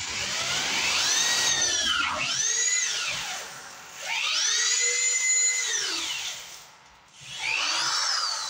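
A power drill drives screws while a wall and window opening is being framed, giving three separate bursts of whining motor that rise and fall in pitch with short pauses between them.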